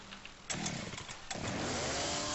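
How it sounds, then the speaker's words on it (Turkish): A loud, rough engine-like drone kicks in abruptly after a brief quieter moment and keeps running steadily, buzzing like a chainsaw or small motor. "O ses ne? Ha. Motor."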